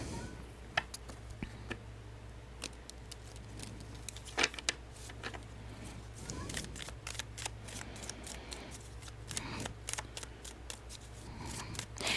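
Tarot cards being shuffled in repeated quick bursts of crisp, papery riffling and snapping, close up, with a low steady hum underneath.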